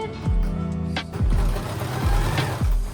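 A sewing machine stitches the double-folded bottom hem of an unlined jacket, its motor running steadily with several repeated low thumping starts and stops, close and fairly loud with no talk.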